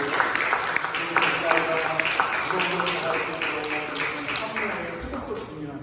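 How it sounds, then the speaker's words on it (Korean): A church congregation claps in celebration during a Sunday service, a steady patter of many hands with some sharper individual claps, while a voice and musical tones sound underneath. "우리 한번 더블로 박수로 우리 한번 축하하겠습니다."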